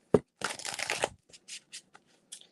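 Tarot cards are shuffled up close for a few seconds: a sharp tap, then a dense riffling burst, followed by a few short soft slides and taps as the deck settles.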